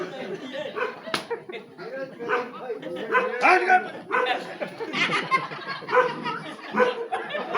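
A dog barks repeatedly in short bursts amid lively, overlapping human chatter nearby.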